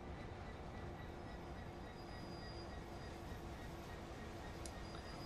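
A train in Train Sim World on the East Coastway line rolls along steadily in a continuous, loud rumble with faint wheel squeal and a brief high click near the end.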